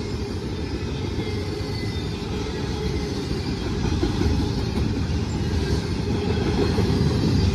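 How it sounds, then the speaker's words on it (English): A Norfolk Southern intermodal freight train rolls past with a steady, dense rumble and rattle of wagons that swells slightly louder toward the end, with no voices. "This is NS 22M daily intermodal traffic that runs from Chicago to Morrisville."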